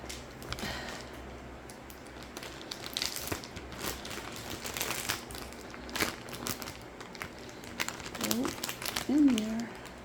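Plastic vacuum storage bag holding king size bedding crinkles and crackles as it is handled and zipped shut, irregular close rustles with a few sharper crunches while a person talks.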